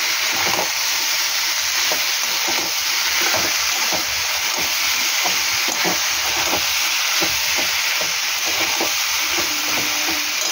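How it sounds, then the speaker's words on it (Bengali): Bottle gourd greens fry in a hot pan with posto and green chillies, a loud continuous sizzle and hiss broken by close, repeated scrapes and clinks of a spatula stirring. "আমি একটু নাড়াচাড়া করবো বেশ কিছুক্ষণ"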